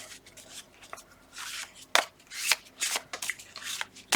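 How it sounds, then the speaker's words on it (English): A stack of baseball cards is shuffled by hand up close, giving quiet irregular bursts of riffling and flicking paper with short pauses between them. "I'm going to kind of shuffle these up."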